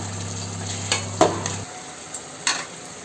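Ginger garlic paste frying in a pan, a low steady hum fading out midway, leaving a faint sizzle punctuated by a few distinct scraping and tapping strokes of a utensil.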